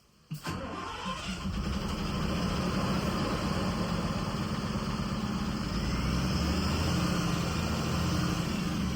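A large Leyland six-cylinder diesel bus engine cranks and catches, then settles into a steady, loud, low rumbling idle that continues without a break.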